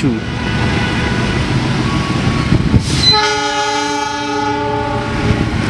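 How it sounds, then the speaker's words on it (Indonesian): A container freight train rolls past on track 7 at Jatinegara station, a loud rumbling rush of wagons with a blaring horn sounding partway through, steady clatter continuing close by, while people talk faintly underneath. "ternyata di belakangnya persis ada kereta peti kemas melintas langsung di jalur 7"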